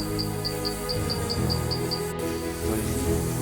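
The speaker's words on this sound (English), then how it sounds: "Here insects are flying." Insects chirp inside a limestone wind cave at Bau, Sarawak, with a steady run of about nine evenly spaced, high, clear pulses over a constant low cave hum and rumble.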